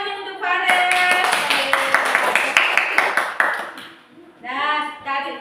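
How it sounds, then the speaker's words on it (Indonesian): A classroom of pupils claps for a classmate named Fares, a loud burst of quick rhythmic hand claps for a few seconds that fades, with a teacher's voice before and after. "Oke, ada tepuk tangan nih untuk Fares"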